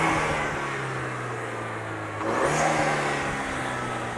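A 2-litre turbocharged Audi TT engine gives a brief rev, its intake whoosh and whir swelling partway through over a steady engine drone, heard close with no talking.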